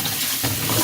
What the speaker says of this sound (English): we're going to give them a quick little rinse